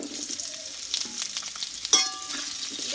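Panch phoron five-spice seeds with cauliflower and potato pieces frying in hot oil for a cauliflower curry, a steady close sizzle with a sharper burst of crackling and spatter partway through.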